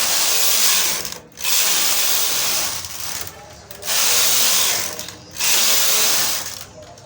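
Chunky knitting machine carriage sweeping back and forth across rows of a summer bucket hat brim, a loud sustained whirring rattle in three long passes separated by brief pauses, close and alone.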